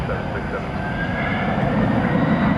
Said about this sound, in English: the UPS 757, 767 rather, now cleared for takeoff.